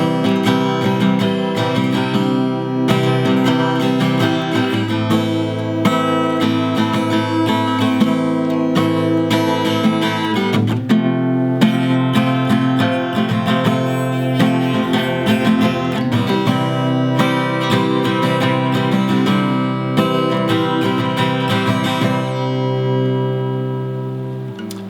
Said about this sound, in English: Alright, next up, I'll teach you the strum pattern that I do for the song.